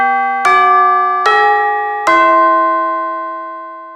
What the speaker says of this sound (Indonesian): Bel istirahat berbunyi nyaring,